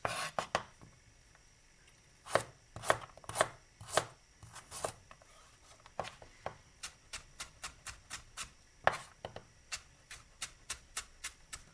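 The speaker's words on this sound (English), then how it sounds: "So I'll do all my carrots, cut them in as small as I can, the strips." Knife chopping carrots into small strips on a board: crisp, sharp thuds close by, first in irregular bursts, then in a quicker, fairly even run of cuts, with quiet gaps between strokes.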